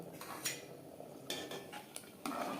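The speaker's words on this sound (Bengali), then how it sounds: "দু 3 মিনিট ফুটিয়ে নেওয়ার পর দিয়ে দেব শিম।" Flat beans added to a pot of boiling sunned rice, with faint clinks and scrapes of a utensil against the pot over a soft bubbling background.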